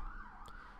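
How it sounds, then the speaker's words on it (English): A wailing emergency vehicle siren carries in from outside, gliding up and down in pitch as one unbroken tone, heard at a moderate distance with a brief sharp click partway through. "God, shut up, sirens."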